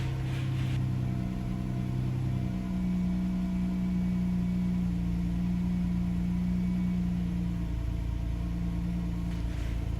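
A 2012 Chrysler Town & Country engine idles with a smooth, continuous low hum and a faint steady whine, unchanging throughout, with no voices.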